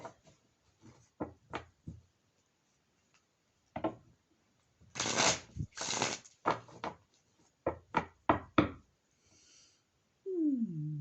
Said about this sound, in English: I am shuffling the cards to program them for the upcoming week.